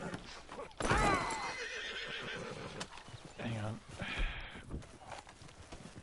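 A horse in the video game Red Dead Redemption 2 whinnies loudly, then hooves clip-clop along beneath a voice speaking briefly.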